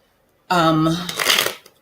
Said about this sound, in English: I like to shuffle my cards backwards once